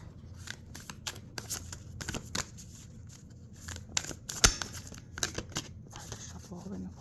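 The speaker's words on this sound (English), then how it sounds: "It's hard to shuffle holding the phone like this." Oracle cards shuffled by hand while a phone is held, giving soft irregular riffling and flicking bursts, close and fairly quiet, with one sharper snap midway.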